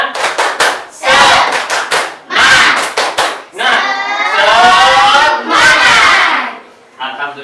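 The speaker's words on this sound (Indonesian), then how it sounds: "Sekarang kita melakukan tepuk semangat." Elementary pupils in an Indonesian madrasah classroom perform the tepuk semangat chant, loud rhythmic group clapping in bursts followed by shouted chanted words, close and energetic, ending in a brief pause.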